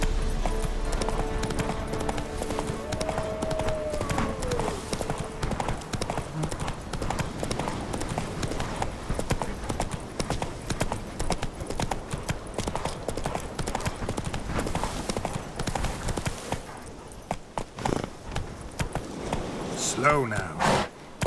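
Roach the horse's hooves clip-clop in a steady walking rhythm in The Witcher 3, close and continuous under game music and ambience, with a brief line of speech.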